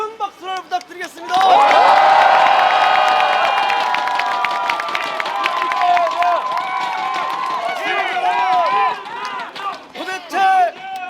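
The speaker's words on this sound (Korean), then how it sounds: "이재명 대표님께 다시 한번 큰 박수를 부탁드리겠습니다" A large crowd at a political rally in a traditional market in Wonju bursts into loud cheering, whooping and clapping, swelling then fading as shouting voices and an amplified speaker break through the applause.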